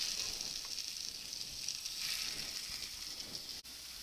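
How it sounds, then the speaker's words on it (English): Homemade breakfast sausage sizzles steadily in a cast iron pan, a constant close crackling hiss with no talk over it. "Let that sizzle."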